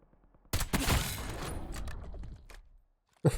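Gunfire from the video game Warzone, a dense burst of rapid shots followed by a few scattered reports, with a sharp final crack after a brief pause.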